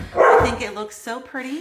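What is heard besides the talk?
dog barking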